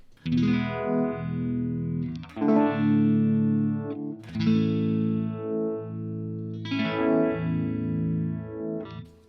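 Electric guitar chords swell and warble through an Electro-Harmonix Good Vibes modulation pedal, a slow rhythmic sweep pulsing through each sustained strum.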